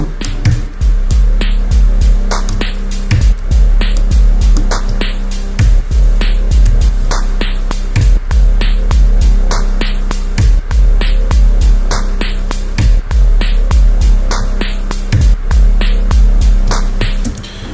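Ambient electronica synths drenched in big reverb and delay: sustained pad tones hang under a steady, rhythmic clicking beat that repeats evenly throughout, loud and continuous with no voices.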